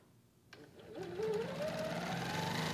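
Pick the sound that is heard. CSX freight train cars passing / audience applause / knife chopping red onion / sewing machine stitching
sewing machine stitching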